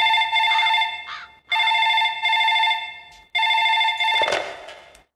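Telephone ringing in a Hindi-dubbed movie scene, three long electronic rings separated by short pauses, loud and close, the last cut off by a clatter as the receiver is picked up.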